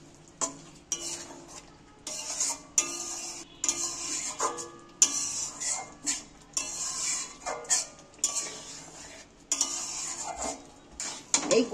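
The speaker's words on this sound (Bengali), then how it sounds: "এগুলো ঘেঁটে দিচ্ছি।" Potol and paneer are stirred in a pan, with repeated scraping and clattering spatula strokes in an irregular rhythm, close and moderately loud, under a soft sizzle.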